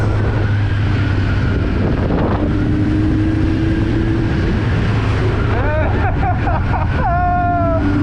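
A 2019 Kawasaki Ninja 1000 superbike accelerates on the road, its engine droning beneath heavy wind buffeting on the rider's microphone, with rising tones and a voice briefly cutting in near the end.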